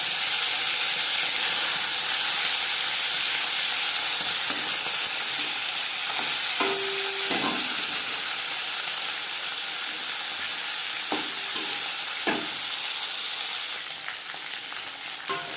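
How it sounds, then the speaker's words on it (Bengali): Marinated tilapia fish fries in about four spoons of hot refined oil, a continuous loud hissing sizzle close up, with a few faint utensil taps partway through. "4 চামচ রিফাইন্ড অয়েল গরম করে নেওয়ার পর দিয়ে দেবো ম্যারিনেট করে রাখা মাছ।"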